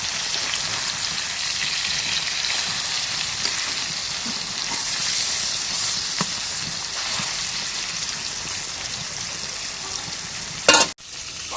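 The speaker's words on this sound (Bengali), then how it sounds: "দেখেন মাছ ভাজি রয়েছে মাছ ভাজি" Fish frying in a pan in a village kitchen, a steady dense sizzle holding for about eleven seconds, then a brief sharp clatter near the end.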